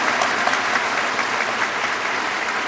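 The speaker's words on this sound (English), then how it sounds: "Shall we please applaud His Royal Majesty Otumfuo Osei Tutu II" Sustained applause from an audience at a university congregation ceremony, dense and steady throughout, with many hands clapping at once and no clear voices.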